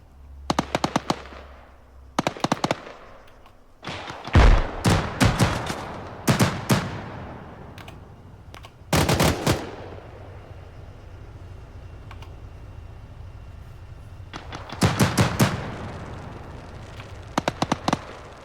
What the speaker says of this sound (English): tanks are actually engaging.